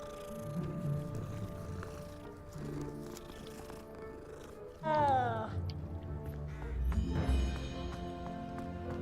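A cat in the Hogwarts Legacy video game gives a clear, drawn-out meow midway, set against layered game music and ambient tones, with a deeper low thump following.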